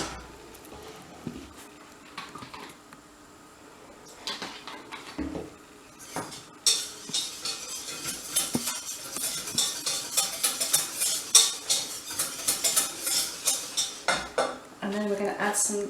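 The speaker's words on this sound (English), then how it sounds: "So I'm going to add a bit more milk" Milk added to a roux in a pan for cauliflower cheese, followed by rapid clinking of a utensil against the pan as it is stirred, quiet at first then busy and rhythmic.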